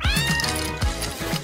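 A cat meows repeatedly while playing with a homemade feather toy: loud, close, drawn-out calls in quick succession with no talking.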